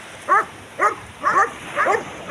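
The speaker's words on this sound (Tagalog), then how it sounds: "grabe yung mga aso" Dogs barking near a seaweed-farming village in Lipanto, five loud, evenly spaced barks in quick succession, close by and with no talk.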